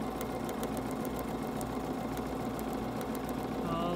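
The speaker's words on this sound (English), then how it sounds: "I am going to sew right on that line that I drew" A sewing machine stitching along a drawn line on a quilt block, a steady, fairly quiet mechanical whir with a fast regular ticking that runs continuously without pause.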